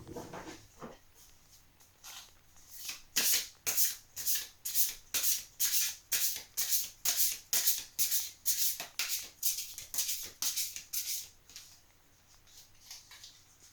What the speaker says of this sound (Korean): 추가로 조언 카드 한번 꺼내 볼게요.